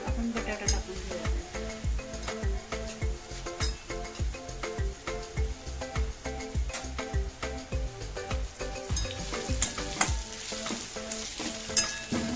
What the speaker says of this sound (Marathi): आता आपला कांदा छान ब्राऊन झालेला आहे। आपण बटाटा टाकून घेऊया।